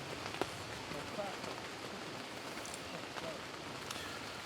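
Steady rain falls during a thunderstorm at a wilderness canoe campsite by the water, a dense continuous patter on surfaces with occasional louder drops, close and constant throughout.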